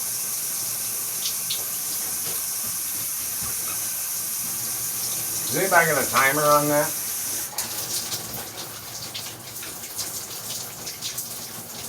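Shower water runs in a steady broad hiss, close and continuous, with someone speaking briefly midway and the spray shifting in tone afterward.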